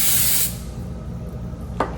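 A can of hairspray gives one short, loud burst of hissing aerosol lasting about half a second. A quiet room hum follows, with a faint click near the end.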